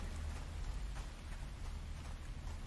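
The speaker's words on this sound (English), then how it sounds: "Okay, rain, nice," Rain falls steadily in the horror video game Sirenhead: SouthPoint, a constant soft hiss over a low rumbling bed, with no talk over it.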